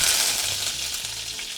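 Cumin, mustard seeds and curry leaves sizzle steadily in hot oil for a tempering, a bright, continuous frying hiss close up with no voices.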